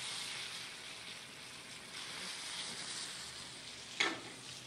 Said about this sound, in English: We put the meat on the butter.